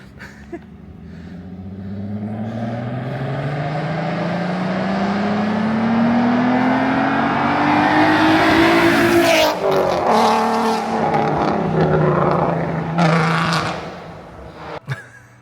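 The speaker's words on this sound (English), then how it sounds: "Now it's got three vibrant resonators and the valve muffler, which 9 times out of 10 is open." A VW MK6 "R36" with a 3.6 VR6 4Motion swap, three resonators and an open valve muffler, climbs steadily to a loud, rising exhaust howl, then cuts sharply with crackling bursts before settling.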